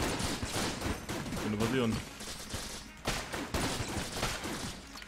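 Rapid bursts of gunfire from weapons in the co-op video game Enter the Gungeon crackle throughout, loud and repeated, with people talking over them.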